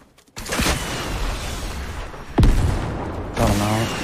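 Pump shotgun blasts in Fortnite, a few sharp booming shots close up, with one especially loud blast midway and another at the end over busy game noise.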